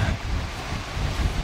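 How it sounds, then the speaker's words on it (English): An Icelandic waterfall gives off a steady broadband roar of falling water, dense and rumbling, mixed with wind buffeting the microphone across the short span, no voices. "There's Josh by this waterfall."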